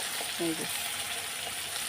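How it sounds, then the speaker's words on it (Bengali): Fish, onion and garlic frying together in a pan, a steady hiss and crackle of hot oil close up, with someone briefly talking over it. "সব একসাথেই ভাজা ভাজা করে নেব"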